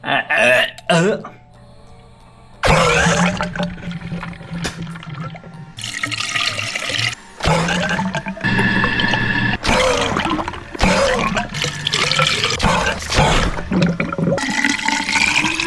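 Gurgling, bubbling coolant forced by blowing through the tubing of a manual BMW Z4's engine cooling system, with trickles and splashes, loud and close, in irregular bursts with brief pauses.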